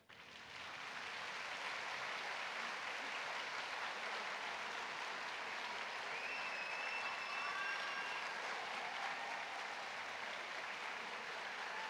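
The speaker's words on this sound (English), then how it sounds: "Please stand up and give a round of applause." Sustained applause from a large crowd at a graduation ceremony, steady and dense throughout, heard from a distance with no talking over it.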